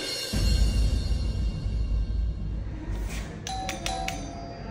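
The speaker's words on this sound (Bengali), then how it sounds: "কে বারবার কলিং বেল দিচ্ছে?" A doorbell chimes several times in quick succession late on, its bright ringing tones standing over a low, rumbling room background.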